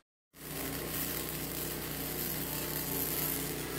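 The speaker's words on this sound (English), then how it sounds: "got the generator running outside, it's super loud" A generator runs outside at night on a full-time RV site, starting abruptly and then holding a steady, loud, continuous engine drone with no talking.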